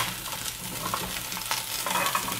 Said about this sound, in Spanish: Le voy a agregar la cebolla y el ajo y voy a dejar a que se sofría